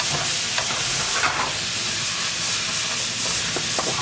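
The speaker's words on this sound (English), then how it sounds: "if y'all hear that sizzling over there, that's the Italian sausage getting ready" Italian sausage sizzling in a hot pan, a loud, dense, continuous frying hiss with small crackles and pops throughout, close and steady.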